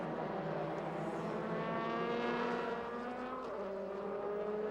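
A DTM touring race car spinning on track during the 2003 season, its engine whining steadily with harmonic tones that shift in pitch partway through, loud and continuous with no voices.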